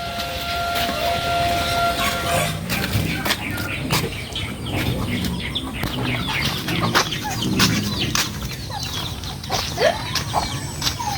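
A flock of chickens clucks and cackles nearby while the birds move around, with a steady busy sound of rustling and scattered calls throughout.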